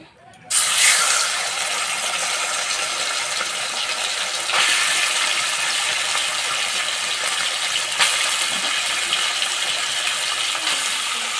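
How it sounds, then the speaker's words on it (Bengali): Chicken lightly frying in mustard oil in a kadai, a loud broadband hiss that begins abruptly and then holds steady and close with small crackles, with no talking. "এবার চিকেনটা হালকা করে ভেজে নেব।"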